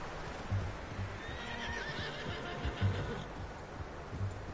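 A horse whinnies in the Red Dead Redemption 2 video game, a faint, wavering neigh heard over a low rumbling background and scattered muffled thumps.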